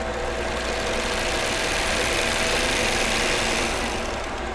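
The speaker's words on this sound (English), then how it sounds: "And it will cut and overlock the fabric as you go." An overlock machine runs steadily as it sews and trims fabric with its blade, a loud continuous motorized whir with fast mechanical vibration holding even for the whole stretch, with no talking.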